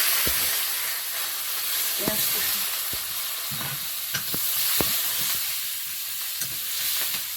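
Panch phoron and a bay leaf crackle in hot oil on a home stove, a steady hiss of frying dotted with sharp pops and spoon scrapes, close and fairly loud with no talking.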